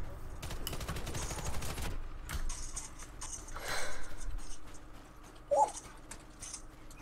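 Gunfire from the Warface video game, with a rapid burst of shots at the start followed by scattered single shots and game noise through a busy multiplayer firefight; a pistol and shotgun are in use.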